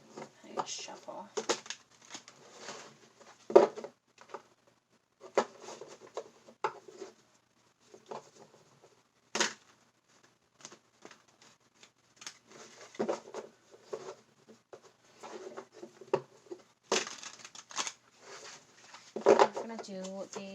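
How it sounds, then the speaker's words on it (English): A single deck of tarot cards is shuffled by hand in repeated bursts of riffling and patter, broken by short pauses, close up and fairly loud. "I need to shuffle."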